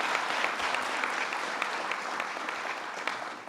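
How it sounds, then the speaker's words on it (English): Audience applause for Borough President Melinda Katz at a Jamaica, Queens downtown revitalization event, a dense, steady wash of many hands clapping throughout without a break. "Let's give her a round of applause."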